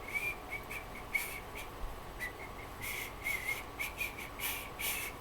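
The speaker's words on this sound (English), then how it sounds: "you can hear a little bit of whistling I do." Short, faint, breathy whistled notes come in a broken, uneven series against quiet background hiss.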